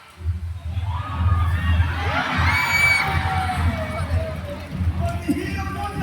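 A crowd at a theme park water show cheers and shouts in a rising swell of excited voices that peaks and fades, with scattered whoops over a low rumble.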